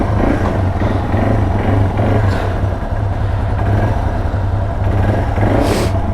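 A dual-sport motorcycle engine idles nearby outdoors, a loud, steady low thrum with slight rises in revs throughout.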